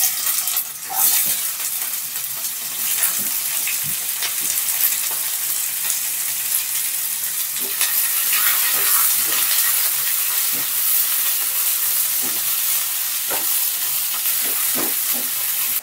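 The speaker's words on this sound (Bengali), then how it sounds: "পেঁয়াজগুলো ভেজে নেব আগে।" Onions sizzle and crackle steadily in hot oil in a pan while a Bengali mutton curry is being cooked, with light stirring clicks over a constant close frying hiss and no talk.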